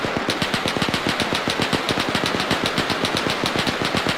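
Sustained automatic machine gun fire with tracers in the Arma 3 combat game, set in an assault on German infantry and half-tracks: a rapid, steady stream of loud, evenly spaced shots running unbroken throughout, with no talk.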